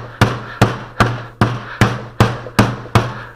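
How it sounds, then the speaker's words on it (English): Old window putty, folded in half, is beaten eight times in a steady rhythm, each blow a sharp, close thwack with a short ringing decay, and no voices. "I'm just folding it in half and beating on it"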